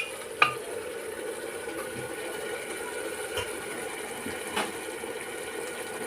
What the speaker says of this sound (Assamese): এনেদৰে ধুনীয়াকৈ ভাজি ল'ব লাগিব।